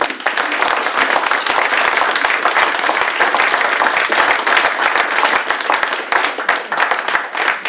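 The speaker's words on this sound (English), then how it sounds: "let's give a round of applause to the candidates" An audience at a League of Women Voters candidates' forum, held in a public library room in Port Orford, gives sustained, dense applause that stays loud throughout with a few individual claps standing out near the end.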